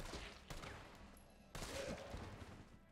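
Gunfire at an enemy in the video game Resident Evil 3, heard as two sharp, loud bursts of shots about a second apart over a steady noisy game background.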